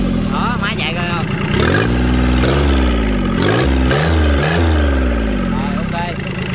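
Loud, close Yanmar 3T68 three-cylinder diesel engine chugging as the throttle is opened and eased, its pitch swooping up and down in rises and falls while someone talks over it.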